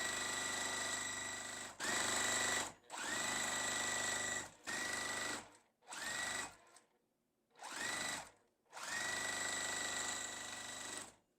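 A sewing machine stitches quilt pieces for a house-block sampler quilt in loud, steady whirring runs, six or seven bursts of a second or more separated by short pauses, with no talk over it.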